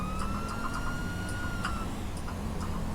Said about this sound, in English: Turn off my siren and drive casually back to the station.